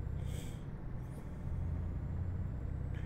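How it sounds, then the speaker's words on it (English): A heavy truck engine in the driving game Euro Truck Simulator 2 drones low and steady, with a short hiss of air brakes near the start and another at the end. "You guys hear the truck all right?"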